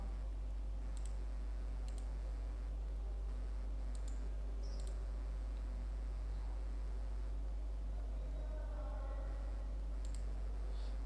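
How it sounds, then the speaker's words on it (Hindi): Keys on a computer keyboard click in sparse, separate presses over a steady background hiss, a few single taps spaced seconds apart with a soft tonal blip toward the end. "विंडो और R कीबोर्ड से मैं आपको करके दिखा देता हूं।"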